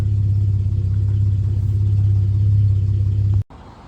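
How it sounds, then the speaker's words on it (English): A classic car that sat overnight starts right away and settles into a steady, loud low idle rumble close by, cutting off abruptly near the end before a quieter tail. "Just starting car. I've been sitting all night. It starts right away."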